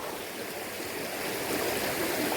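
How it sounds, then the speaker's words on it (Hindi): Water rushes down a natural rock slide in a loud, continuous close roar that swells slightly toward the end, with no voices. "छोटी सी कुदरती स्लाइड, उसमें से ये पानी कितना आ रहा है भाई देखो"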